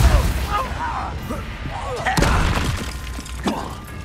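Spell blasts in a Harry Potter video game, Confringo and Depulso, sounding as loud shattering bursts and thuds amid continuous game noise and a voice speaking over it.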